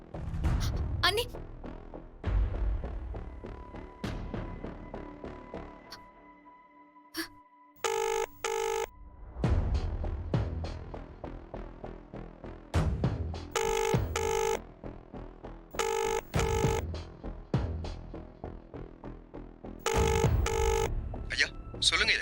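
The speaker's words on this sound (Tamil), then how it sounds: "ஃபோன் அடிச்சா கேக்குமே" A telephone rings indoors in a Tamil TV serial scene, with repeated bursts of electronic ringing in separate groups amid background music and people talking.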